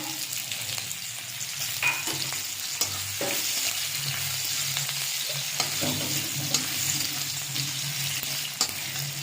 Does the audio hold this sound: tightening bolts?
no